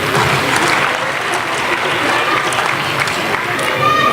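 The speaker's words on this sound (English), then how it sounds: "Give a big round of applause, please." Audience applause at a school annual day prize announcement, a dense steady round of clapping lasting several seconds with crowd noise and some voices underneath.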